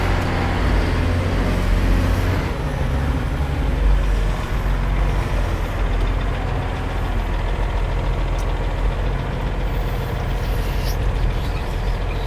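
A wheel loader's diesel engine drones steadily at close range as the machine is driven and worked through its gears, a loud continuous rumble with slight shifts in pitch and load and no voices.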